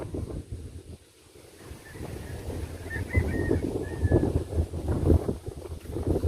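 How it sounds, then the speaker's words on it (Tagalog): Strong typhoon winds roar and gust against the microphone in heavy, continuous buffeting in the Philippines, with faint bird calls briefly audible in the background. "Lakas na yung hangin, oh."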